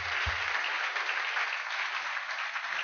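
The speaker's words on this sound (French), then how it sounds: "Applaudissons pour le Seigneur." A church congregation applauding, a steady, somewhat distant wash of clapping hands that continues evenly without speech.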